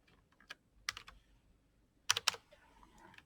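A formula being typed on a computer keyboard: sparse, soft key taps in a few small clusters, quiet and close in a silent room.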